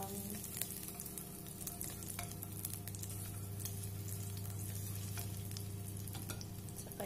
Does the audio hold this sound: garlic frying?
yes